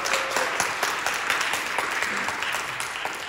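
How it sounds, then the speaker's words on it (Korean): An audience applauds at a church teachers' college gathering, a steady wash of many hands clapping at moderate loudness with no talk over it. "큰 박수 맞죠?"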